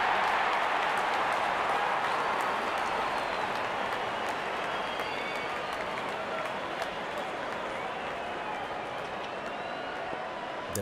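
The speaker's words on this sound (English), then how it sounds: "crowd cheering in anticipation." A cricket stadium crowd at a T20 World Cup match between Bangladesh and South Africa keeps up a steady, dense roar of cheering and clapping, far-off and unbroken.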